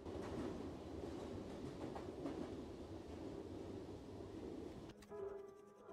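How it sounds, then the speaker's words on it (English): Steady rumble and clatter of a train ride in The Outlast Trails, rolling continuously before a sharp shift near the end, with no voices heard. "Long train ride, huh?"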